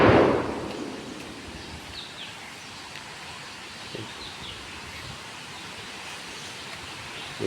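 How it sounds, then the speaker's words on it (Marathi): Water gushes forcefully from a village pipeline in a steady, close rushing hiss that runs unbroken, with scattered bird chirps above it. "पाणी ना एकदम फोर्समध्ये येत असतं"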